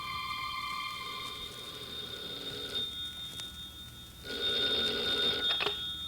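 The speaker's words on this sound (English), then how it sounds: "a telephone rang in a suite at the Hotel Vendôme in Paris" Telephone ringing in a hotel suite in Paris in an old radio drama, two long electronic bell rings separated by a pause, clear and moderately loud with no voices.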